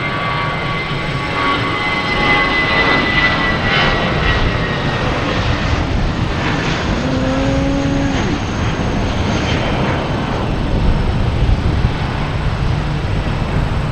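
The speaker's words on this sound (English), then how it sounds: "We have an A320 heading to JFK," A JetBlue Airbus A320 jet takes off at Boston Logan Airport, a loud steady engine roar that swells and holds for the full stretch, with a rising whine in the middle.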